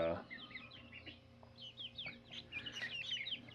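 Silkie chicks or young silkie chickens clucking and cheeping in a brooder pen, a busy scatter of small high calls that grows denser toward the end, close by over a low steady hum.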